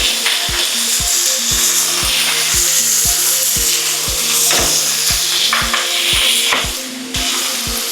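Beef browning in oil in a skillet on high heat, a continuous loud sizzle with a regular rhythmic ticking and some scraping throughout.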